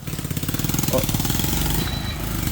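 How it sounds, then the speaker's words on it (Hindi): On a busy road, a scooter engine idles and putters close by with a rapid, steady pulsing rumble while other vehicles pass, loud and continuous, with no clear talking over it. "अब हम बीच सड़क में, स्कूटर आ रहे हैं, गाड़ियाँ आ रही हैं"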